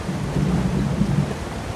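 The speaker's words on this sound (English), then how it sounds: "it is raining like crazy now" Rain and thunder in The Elder Scrolls Online: a steady rolling rumble of thunder over continuous rainfall, loud and even throughout with no voices.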